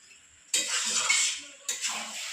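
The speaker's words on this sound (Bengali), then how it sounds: "দিয়ে ভালো করে নাড়াচাড়া দিয়ে আবার তিন চার মিনিট কষিয়ে নেব" A utensil stirs pumpkin and dried lotte fish curry in a metal pan, making two loud, close scraping bouts with a faint sizzle beneath.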